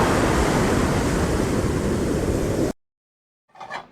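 Sea waves break at Puri beach at night in a loud, steady wash of surf and wind noise. It cuts off abruptly, then a short muffled sound follows after a silent gap.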